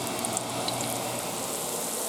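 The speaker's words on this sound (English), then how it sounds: "Listen to that sizzle." Steady, even sizzling of a pork patty frying in a hot pan, a soft continuous crackle with faint pops, close by and with no talking.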